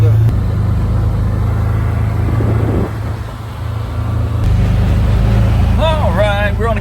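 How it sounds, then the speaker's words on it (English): A Can-Am off-road vehicle's engine runs steadily and loud throughout a ride on the way to a wild hog spot, with a brief dip in the middle and a voice speaking over the drone toward the end. "we're on the Can-Am headed to go look at a hog spot."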